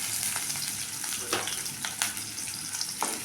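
Small onions and garlic fry in oil for a dried fish curry. Soft, steady sizzling and bubbling fill the clip, with a few brief scraping stirs.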